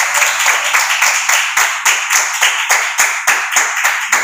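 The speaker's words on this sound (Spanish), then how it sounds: "Haz un aplauso fuerte" A church congregation claps loudly in unison, sharp regular claps about four times a second, with faint music underneath.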